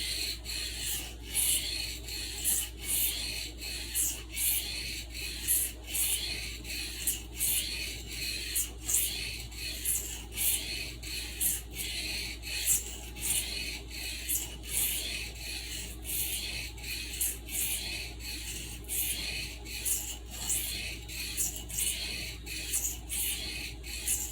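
Steady rhythmic rasping strokes of a Stockman sheepsfoot knife blade drawn across a sharpening stone, close and fairly quiet, repeating evenly back and forth with no talk.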